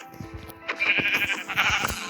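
A sheep in Minecraft bleats in a few wavering, nasal cries one after another, close and fairly loud, with a game-like synthetic quality.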